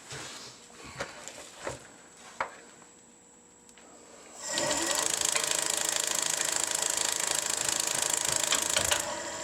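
A wood lathe hollows a piece with a gouge. A few soft knocks sit over near quiet, then a loud, steady, rough cutting roar starts about halfway and runs to the end.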